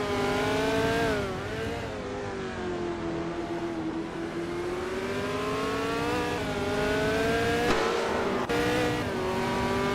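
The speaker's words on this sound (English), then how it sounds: "Hope you're ready for some exciting AI car races today." AI-driven race cars in a racing video game roar continuously, engine pitch climbing and falling as the cars accelerate and shift, with a few sharp cuts near the end, loud and steady with no voices.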